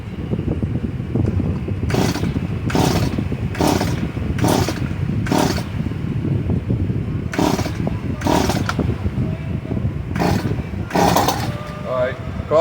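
A Stihl MS 170 gas chainsaw cuts into a tree, its engine droning steadily and loud close by, with repeated sharp bursts of higher-pitched revving as the chain bites in.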